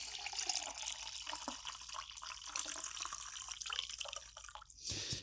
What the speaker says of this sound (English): Listen to me pour it.